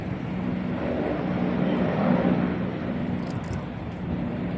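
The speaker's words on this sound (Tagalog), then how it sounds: "May helicopter." A helicopter flying over a seaside walking area near Hong Kong gives a steady, moderately loud whooshing drone overhead that swells slightly in the middle. No voices are heard.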